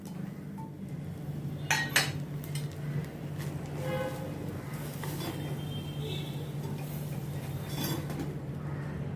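A spoon scrapes and clinks against a pan, stirring dry spices like red chili, cumin and amchur powder over a steady low stovetop hum, with occasional sharper taps.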